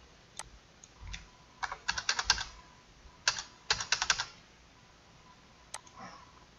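Numbers go into a calculator on a computer keyboard as quiet, close keystrokes, single taps mixed with quick clustered runs and short pauses between them.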